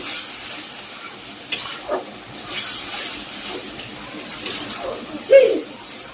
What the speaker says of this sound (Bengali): এই যে মাংসের জন্য মশলা কষাই নিতেছি।